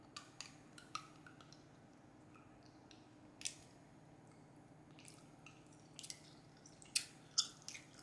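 Chewing on an Airheads taffy candy, a few soft, sticky squishes and small wet clicks spaced irregularly, close and quiet with no talking.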